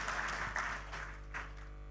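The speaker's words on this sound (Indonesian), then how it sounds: "Kita ucapkan selamat dan tepuk tangan untuk Indonesia Digital Forum." Audience applause at the Indonesia Digital Forum opening and keynote session, faint, distant clapping over a steady low hum.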